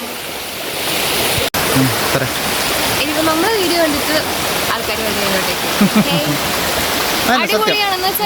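A stream of water flowing through a wooded spot rushes in a steady, continuous wash, with some people talking and calling faintly over it.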